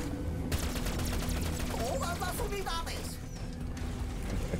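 Rapid bursts of gunfire and mechanical clatter from a Halo Wars 2 battle, a dense continuous fusillade with a voice speaking over it.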